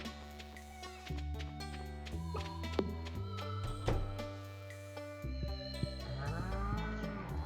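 Cows moo in the Stardew Valley farming game, several long tonal calls overlapping at a fairly soft level with no talk.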